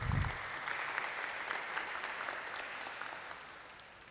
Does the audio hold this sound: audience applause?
yes